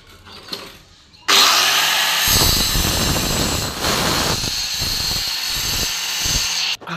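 Stone cutter slices green marble into half-inch strips, a loud, harsh continuous grinding whine that starts abruptly after quiet background and holds steady close by until it cuts off at the end.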